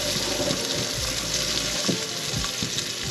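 Mixed vegetables fry in a pan with a continuous close sizzle, a few soft stirring scrapes breaking through the steady hiss.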